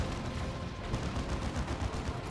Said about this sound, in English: Here is a Wraith Lord putting in the damage from that Shuriken Cannon upgrade.